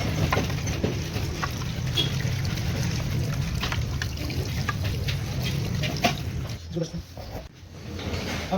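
Running water splashes and trickles steadily as an Epson L210 printer ink tray is washed by hand, close and continuous, with someone talking over it throughout.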